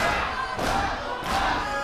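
A wrestling crowd at a live combat show roars in a dense, loud, continuous swell of shouting and cheering, rising in two waves.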